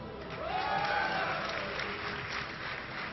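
Crowd at DreamHack Winter 2011 applauding and cheering for StarCraft player EG.Puma after a game win, a broad steady wash of clapping and noise lasting the whole span.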